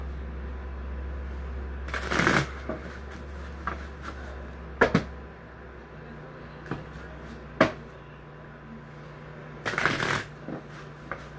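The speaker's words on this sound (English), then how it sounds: "And I'm going to shuffle this multiple times." Tarot cards are shuffled in two quick riffling bursts, separated by softer taps and clicks of the deck being handled nearby, in a quiet room.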